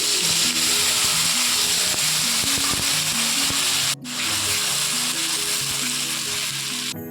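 Onion paste goes into hot oil seasoned with cumin seeds and a bay leaf, giving a loud, dense, continuous sizzle with a brief dip partway through before the frying roar resumes.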